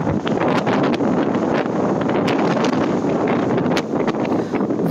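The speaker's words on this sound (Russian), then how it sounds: "В Дельфах дует так, что ну об укладке вообще можно даже не париться." Strong wind at Delphi, Greece: loud, continuous buffeting gusts across the microphone with repeated sharp thumps, up close throughout and with no talk.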